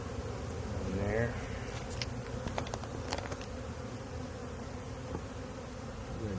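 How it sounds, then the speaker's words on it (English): Honey bees buzz softly and steadily in a two-frame mini mating nuc, with faint tapping and handling noises around the hive box. "We're going to drop them bees in here straight away."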